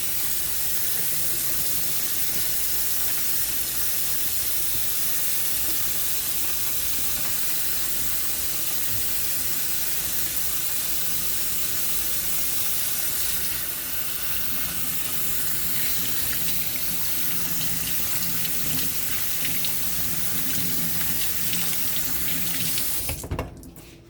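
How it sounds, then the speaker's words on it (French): Hands are washed under a running kitchen tap, a steady close hiss and splash of water that continues unbroken for a long stretch before a brief clatter at the end. "On va se laver les mains"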